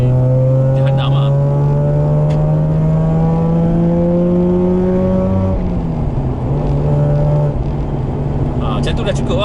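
A Mazda RX8 with a rotary engine revs hard while driving, producing a loud steady drone whose pitch climbs, dips at a shift and climbs again, heard from inside the car and continuous throughout.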